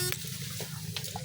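River water that has flowed inland with the high tide into a marshy fishing spot, heard as a steady, continuous wash of flowing water close by, with no voices.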